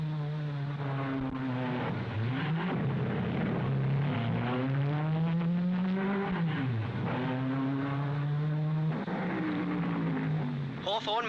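Engines of a Vanwall and a Ferrari race car at the 1955 Monaco Grand Prix rise and fall as they rev up and shift through gears, loud and close, with a steady buzzing drone between the surges.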